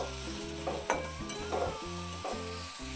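A ground paste of green chili, ginger and salt is stirred into a frying pan over medium heat, giving a steady sizzle with repeated scraping strokes of the spoon, close and continuous with no voices.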